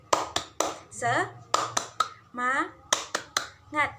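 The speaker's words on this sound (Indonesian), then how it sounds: "Yuk kita tepuk semangat." Children in a primary school classroom perform a rhythmic spirit clap, sharp claps in quick patterned bursts alternating with chanted voices, close and lively.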